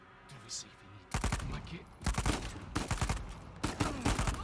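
Bursts of rapid automatic gunfire from an Uzi in Uncharted 4, several volleys in quick succession, loud and close, with brief pauses between them.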